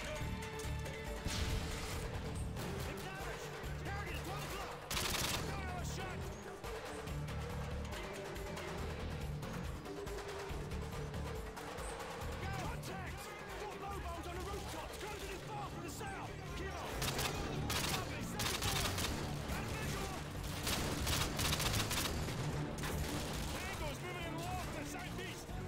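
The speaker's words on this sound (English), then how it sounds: "I didn't mean to shoot them. He just walked in my gunshot." Gunfire in the video game Call of Duty: Modern Warfare 2, with dense continuous bursts of shots and crashes across the whole stretch, loud and busy, with voices talking throughout.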